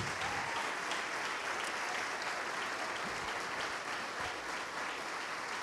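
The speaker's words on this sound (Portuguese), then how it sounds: "Vamos dar uma salva de palmas poderosa para Jesus." A church congregation gives a loud, sustained round of applause, dense even clapping filling the room without pause and no voices over it.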